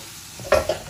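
Masala frying in ghee in a pan as mushroom masala is prepared, a brief close stir and sizzle with a quick scrape or two, no voices.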